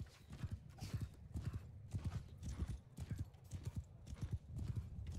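Horse hooves clip-clopping in a rapid, steady gallop rhythm during a multiplayer battle in the game Bannerlord Online, close and continuous, with an occasional whinny and low talk underneath.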